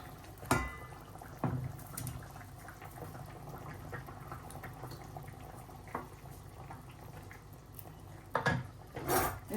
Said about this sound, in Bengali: এই যে ঝোলটা ফুটে উঠছে